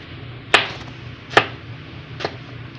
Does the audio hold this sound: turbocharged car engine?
no